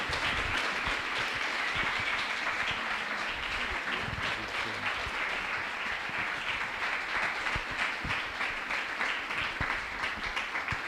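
A large audience at a CreativeMornings New York talk applauds steadily and loudly, a dense continuous wash of clapping holding for about eleven seconds.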